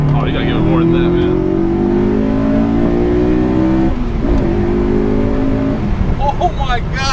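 Honda S2000 engine revving hard as VTEC engages, rising pitch climbing over several seconds from inside the car, then dropping off as excited voices break in near the end.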